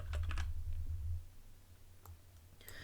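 Clicks from a computer keyboard in a maths lecture setting, a quick burst of keystrokes at the start followed by a few scattered taps, faint and close against a low room hum.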